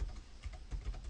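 Fast typing on a computer keyboard while entering data into Excel, a quick irregular patter of soft key clicks with a few heavier strokes, close and steady with no talk.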